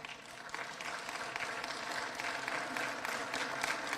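Sustained audience applause fills a room at a mayor's breakfast event in Ottawa, a dense even wash of many hands clapping at once.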